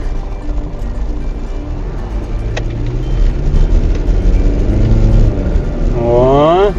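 A 1996 Mazda MPV with a WL-T diesel engine pulls away, its steady engine drone building in loudness and rising in pitch toward the end as it accelerates, close and continuous.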